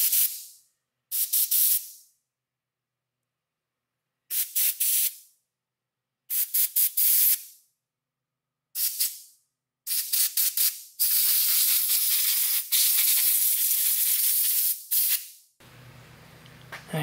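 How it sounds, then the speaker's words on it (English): Compressed air blasts through a Ford Autolite 2100 carburetor in a series of short, sharp hissing bursts, then a longer sustained spray, loud and close, ending in quieter room noise. "And same thing when finished, we're gonna follow up with some compressed air here."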